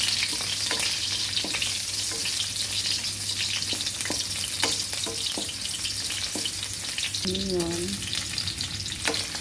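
Garlic sizzles and fries steadily in a pan for chicken feet adobo, with intermittent stirring scrapes and clinks over the constant hiss, close up; a brief voice murmurs once.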